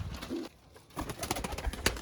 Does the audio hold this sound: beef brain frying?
no